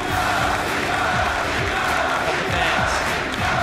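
A large arena crowd in Paris chants and roars for Fnatic, a dense, continuous wall of voices with rhythmic pulses, loud and sustained throughout.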